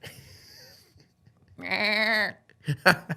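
A goat bleats once, loud and close, with a wavering drawn-out cry of about a second, followed by short bursts of other noise.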